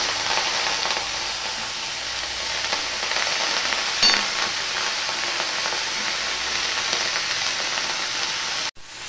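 Greens (shak) sizzling in a hot pan with oil and two chillies, a steady close frying hiss with faint stirring and a brief louder crackle midway, no talk.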